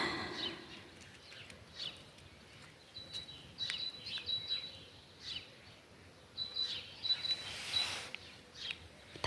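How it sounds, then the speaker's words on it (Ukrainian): Scattered high chirps and short twittering calls from birds sound at a moderate distance over a steady outdoor background, coming and going in brief bursts. "пташки співають."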